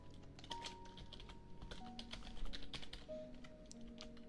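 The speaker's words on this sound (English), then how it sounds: "How do you like the keyboard, by the way? I can hear it." Steady typing on a membrane computer keyboard, soft muted keystrokes tapping in an irregular, continuous patter at close range over a faint background hum.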